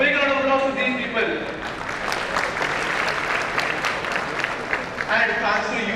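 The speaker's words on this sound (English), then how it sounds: "a big round of applause to these people" Audience applause fills a conference hall at DevFest'19 Indore, a dense steady wash of clapping hands lasting several seconds, with some cheering and voices mixed into the crowd.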